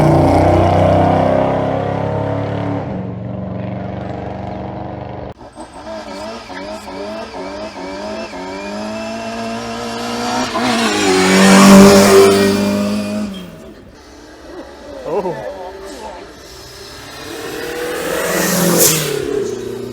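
A turbocharged minivan racing up the Shelsley Walsh hillclimb, its engine loud and close, revving and climbing through gear changes as it passes and fades, then rising again.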